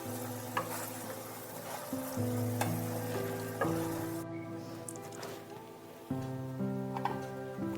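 Capsicum and cauliflower curry with garam masala sizzles in a pan while being stirred, a steady close frying hiss with occasional scrapes and clinks, under soft background music.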